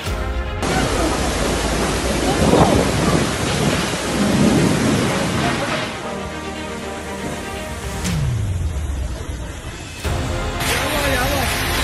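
Strong stormy wind with rain during a whirlwind in Malang, roaring continuously and close with gusting surges and hiss of rain, while a person talks over it in places.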